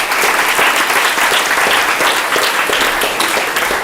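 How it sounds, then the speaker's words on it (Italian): An audience at an Italian comedy show claps steadily, a sustained wash of applause that holds at an even level from start to finish. "Fate un applauso, Oscar Di Maio."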